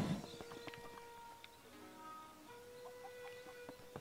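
Chickens clucking in The Legend of Zelda: Breath of the Wild, in Kakariko Village: several short, bright clucks and squawks repeating irregularly at a moderate level over a steady game background.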